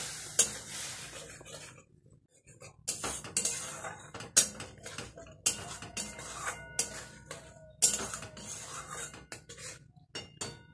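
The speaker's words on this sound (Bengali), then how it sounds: "একটুখানি জল দিয়ে দেবো, দিয়ে মশলাটাকে ভালো করে কষিয়ে নেব।" Spice masala with Kashmiri chilli powder and a splash of water being sautéed in a pan for kancha kola kofta curry, with irregular metal spoon scrapes and clanks over a light sizzle, close by and without voices.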